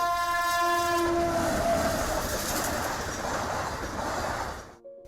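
A train passes at Pembarthy railway station, a village stop beside a national highway. A loud, sustained horn blares first, then a broad rumbling clatter of wagons rolls on and cuts off abruptly at the end.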